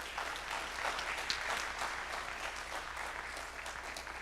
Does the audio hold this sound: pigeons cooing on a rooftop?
no